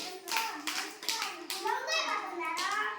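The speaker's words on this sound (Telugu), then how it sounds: "కొట్టండి, క్లాప్స్ కొట్టండి నాన్న, క్లాప్స్ కొట్టండి." Children clapping their hands during a colouring game at an anganwadi, with rapid bursts of claps mixed with young voices and chatter throughout.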